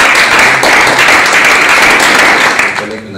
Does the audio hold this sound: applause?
yes